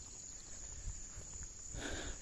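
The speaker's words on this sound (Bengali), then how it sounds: "Can you hear the sound of cricket?" Crickets chirp in a steady, continuous high trill inside a dense forest, the drone holding evenly throughout with a slight rise of rustling texture near the end.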